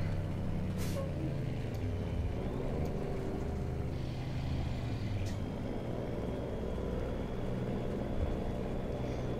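Truck engine brake in the American Truck Simulator driving game, a low, rumbling drone with a steady motor hum and a couple of brief hissing bursts, moderately quiet throughout.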